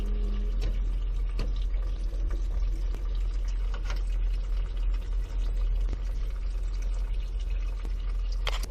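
Coolant draining from a Toyota Yaris during a water pump change: a steady, fairly quiet stream of liquid running and splashing under a constant low hum, unbroken for the whole stretch.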